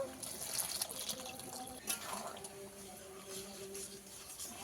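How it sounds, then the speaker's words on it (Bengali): Pea-boiling water being poured into a pot of ghugni, a faint splashing trickle of liquid heard at low level with kitchen clatter, while a person talks over it. "এতে মটর সিদ্ধ করে রেখেছিলাম, যে জলটা আমি ছেঁকে দিয়েছিলাম সেই জলটাই দিয়ে দেব।"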